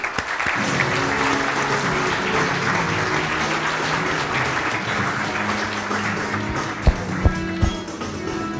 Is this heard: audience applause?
yes